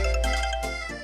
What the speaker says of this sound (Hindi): उसका ही फोन है